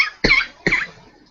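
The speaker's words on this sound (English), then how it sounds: "that cough doesn't sound good" Two short, sharp coughs from a person nearby, spaced about half a second apart, each clear and fairly loud with a quick fade.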